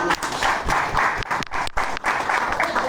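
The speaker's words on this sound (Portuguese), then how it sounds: "uma salva de palmas bem forte" Loud, sustained applause fills a church as a congregation claps vigorously, a dense continuous wash of hand claps with a few brief dips, close and enveloping.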